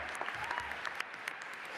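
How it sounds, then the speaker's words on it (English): An audience at an educators' representative assembly claps briefly after a speaker's anecdote, a soft, fairly distant patter of many hands with a few sharper claps standing out. "You guys can go ahead and clap on that one."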